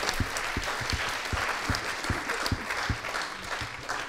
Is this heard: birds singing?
no